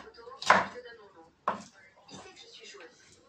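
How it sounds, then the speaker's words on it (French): A knife chops an onion on a board with two sharp, close strikes about a second apart, followed by softer cutting sounds and faint talk in between. "On va couper l'oignon."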